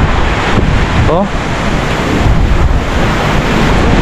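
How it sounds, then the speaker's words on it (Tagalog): Strong gusts buffet an outdoor microphone, a heavy continuous rumble that swamps the scene, with one brief exclamation from a person near the start. "Lakas ng hangin mga kabady."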